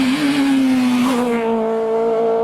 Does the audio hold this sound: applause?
no